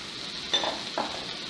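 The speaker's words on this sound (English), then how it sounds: "So we'll just saute this up for a couple minutes." Diced garden onions and green pepper saute in a pan, giving a soft steady sizzle broken by two brief scraping stirs, close and fairly quiet.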